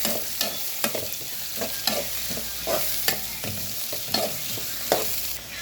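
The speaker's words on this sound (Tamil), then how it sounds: "வெங்காயம் சேர்த்துருக்காங்க நல்லா வதங்கட்டும்" Onions sauté in a pan for a black chickpea curry, a close, steady sizzle with regular scraping strokes from a spoon stirring them roughly once a second.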